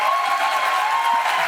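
Applause for Geise at a teachers' event: a steady, moderate patter of clapping from a seated audience, with a faint sustained tone running underneath.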